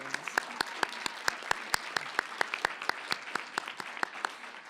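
Clapping at a student life awards ceremony comes as a sparse, rhythmic run of distinct claps, fairly faint and evenly spaced, as if a small group is applauding in near unison.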